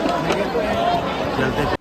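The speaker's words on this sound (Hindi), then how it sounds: "ये सुबह के 5:30 बजे की भीड़ थी, देख रहे हो" Dense crowd chatter at the Sangam ghat during the Mahakumbh, many overlapping voices in a continuous close hubbub of early-morning pilgrims, steady throughout before stopping abruptly.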